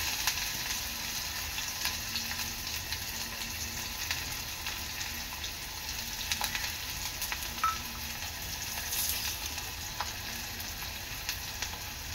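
Onion frying in hot oil with bay leaf for a soybean curry, a steady broadband sizzle that holds at an even level throughout, with a few faint clicks and small bursts above it and no talk.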